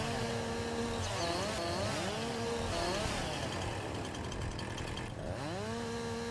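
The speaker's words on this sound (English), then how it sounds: "I bet you guys are sick of this chainsaw by now." A chainsaw runs continuously close by while cutting a load of wood, its engine pitch rising and falling steadily as the throttle changes, loud and alone throughout.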